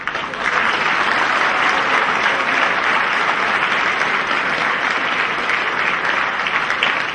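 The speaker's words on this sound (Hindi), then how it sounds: "मुझे मालूम है कि बहुत कस के तालियां बजने वाली हैं।" A crowd at a St. Joseph's College inter-college debate event applauds the host team with loud, sustained clapping that continues unbroken and close for several seconds.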